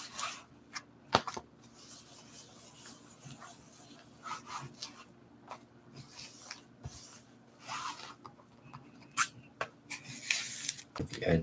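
A hand rubs and wipes down a secondhand book and its boards, giving soft intermittent scuffing and brushing strokes with a few sharper taps, close and quiet, with occasional speech between strokes.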